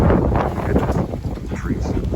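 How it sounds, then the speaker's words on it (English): Wind gusts buffeting a microphone on a cold night on a road in Southlake, a loud rumbling rush that rises and dips without pause. "The wind picking up there."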